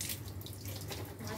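A water hose spraying onto a new motorcycle during a wash, a quiet steady hiss of running water with no break.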